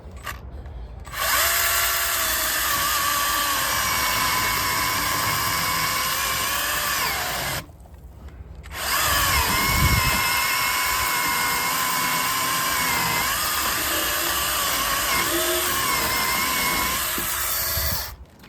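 Chainsaw with an automatic oiler system and chain tensioner running at a steady high-pitched whine, cutting out briefly partway through, then starting again and running on continuously.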